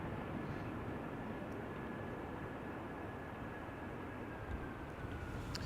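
A Boeing 737 airliner taxiing toward the runway at Schiphol Airport gives off a faint, distant, steady engine hum with a thin whine running through it, unbroken for several seconds.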